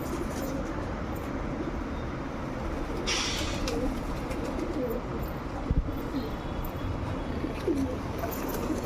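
Wild pigeons cooing near a water trough outdoors, soft repeated coos under a constant broadband background hum, with a brief hiss and a few faint clicks.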